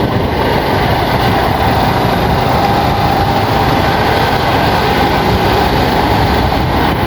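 A Kymco Super 8 150 scooter engine runs steadily after a battery-drain repair, giving a loud, close, continuous rumbling drone with an even mechanical chatter throughout and no speech.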